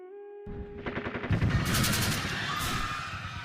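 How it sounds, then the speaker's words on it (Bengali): A burst of several gunshots fired in quick succession as a sound effect, sharp cracks ringing out one after another and then trailing into a long fading echo. "হঠাৎ কয়েকটি গুলির আওয়াজ"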